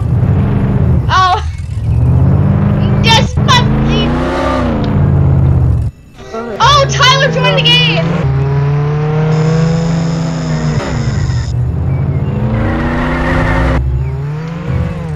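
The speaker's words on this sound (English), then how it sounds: "Oh, a car in the middle of the road. He just crashed into our car." In the Roblox game Jailbreak, a car engine revs loudly and rises in pitch, drops out briefly, then surges and drones again, a close, sustained game engine sound with no speech over it.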